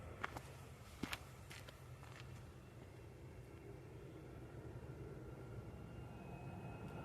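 TUI Boeing 737 rolling for a derated departure on runway 09 at Bristol Airport, a steady low rumble building gradually and holding throughout, with a few brief sharp knocks near the start.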